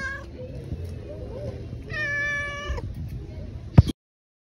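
A stray cat meows several times in a row, clear drawn-out cries close by, with a brief sharp knock near the end before silence.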